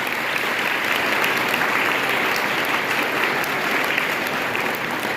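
Loud, dense applause from a large audience at a welcome ceremony, steady and unbroken throughout.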